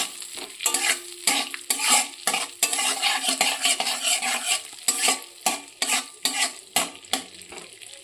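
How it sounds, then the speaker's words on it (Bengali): Butter melting and sizzling in a pan for a white sauce pasta, with a steady fry hiss under repeated scraping stirs of a utensil against the pan, close and continuous. "তো বাটারটা মেল্ট করে নেব"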